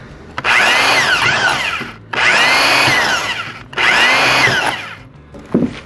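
A power drill whirs loudly in three separate bursts, each rising and falling in pitch as it bites through thin tin can metal, with short pauses between.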